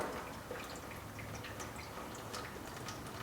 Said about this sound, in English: It's draining from the water separator now.